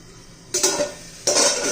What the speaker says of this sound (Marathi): पुन्हा झाकण ठेवून देऊया एखादा मिनिट